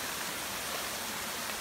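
Waterfall with a steady, dense broadband rush of falling water, constant and unbroken throughout with no voices.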